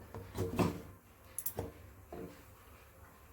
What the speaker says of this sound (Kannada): ಕುಕ್ಕರ್ ಲಿಡ್ನ ಮುಚ್ಚಿ